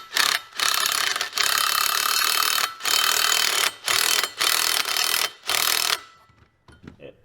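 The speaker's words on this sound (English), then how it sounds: "I just use my little 1/4 inch impact." A small 1/4-inch impact driver runs a bolt into the secondary clutch of a Can-Am Outlander ATV. It fires in a string of loud, rattling hammering bursts separated by short pauses, then goes quiet with a few faint clicks.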